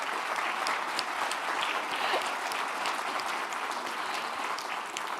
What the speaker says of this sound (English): we are still going to clap really loud and send her the tape